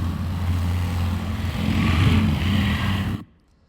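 A loud, steady motorcycle engine roar racing through a street, with a throaty rumble that swells slightly in the middle, then cuts off abruptly into silence; an AI-generated sound effect.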